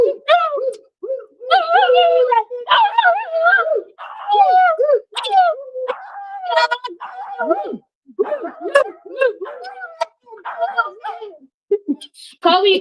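A dog joins a group chant, its howls and yips rising and falling alongside rhythmic human voices in short bursts with gaps of silence between phrases.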